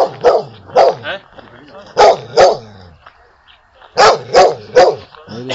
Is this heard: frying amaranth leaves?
no